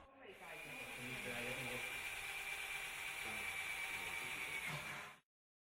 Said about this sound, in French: Percez un trou tous les 60 cm dans les deux glissières du rail supérieur.